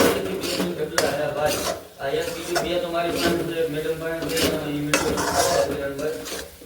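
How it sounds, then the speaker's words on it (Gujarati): Mawa (khoa) roasting in ghee in a pan over low heat for a badam pak sweet, heard as repeated metal scraping and clanking of a spoon against the pan, with someone talking throughout. "ચાલો ધીમે ગેસે આપણે છે ને માવો શેકી લેવાનો છે"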